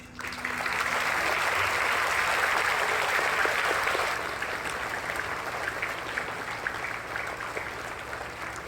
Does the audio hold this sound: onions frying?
no